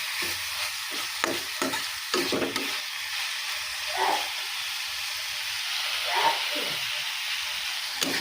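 Pumpkin leaves (kakharu saag) frying in a pan in Jharkhand style, a steady close hiss and sizzle with scraping stir strokes early on and a few louder bursts as the greens are turned; no talk.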